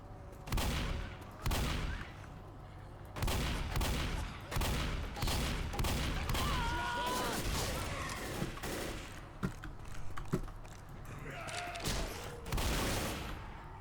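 Gunfire in the zombie shooter Left 4 Dead, inside a subway station: repeated loud bursts and single shots at close range, coming in irregular clusters with short pauses between them.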